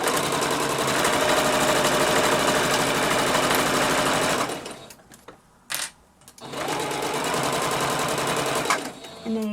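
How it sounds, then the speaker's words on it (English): A sewing machine back stitches fabric for a Baby Moana doll outfit, running in a loud steady whirring burst, then pausing briefly with small clicks before whirring again. A voice can be heard faintly with the motor. "you're going to back stitch at the top to secure the stitch"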